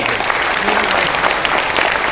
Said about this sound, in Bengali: একবার জোরদার হাততালি